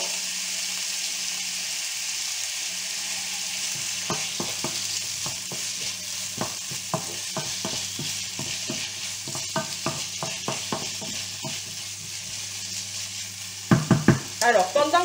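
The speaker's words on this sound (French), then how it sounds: "pendant que mes lardons et mes oignons cuisent" Bacon lardons and onions frying and sizzling in a pan, with a steady hiss throughout and a run of distinct scraping stirs, the utensil clattering more loudly near the end; no one speaks.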